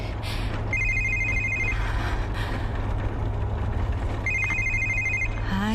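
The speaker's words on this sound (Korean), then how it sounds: "아이 참 왜 자꾸 전화를 하는 거야?" A telephone bell rings in two short trills a few seconds apart, heard inside a car driving along a narrow road, over a steady low engine and road rumble.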